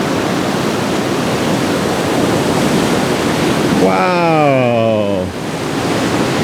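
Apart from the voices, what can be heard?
ocean waves washing over a rock shelf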